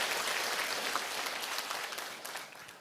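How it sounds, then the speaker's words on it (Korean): An audience at a Korean company event gives a short burst of dense applause. Many hands clap together, then the clapping fades slightly toward the end. "우리 자신들을 위해서 박수 한번 치도록 하겠습니다."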